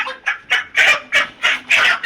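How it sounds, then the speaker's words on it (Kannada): Chickens cluck in a series of short, evenly spaced bursts, close by and fairly loud, with no voices. "ಎಷ್ಟು ಕೋಳಿ ಇದಾವು?"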